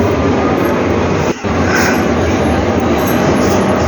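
A loud, steady rumbling roar of a metro train arriving at a station, with a brief dip partway through before the heavy mechanical noise resumes.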